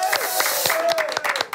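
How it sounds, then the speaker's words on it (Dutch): A studio audience breaks into applause on a Dutch entertainment show: a short, loud burst of clapping with a voice carrying over it. "Applaus voor Chris!"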